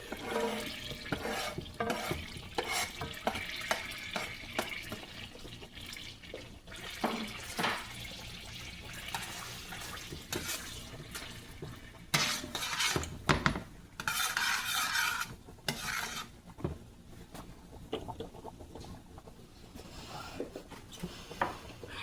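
Garlic cooking in melted butter in a pan, a soft steady sizzle under irregular stirring and scraping of a utensil against the pan, close by.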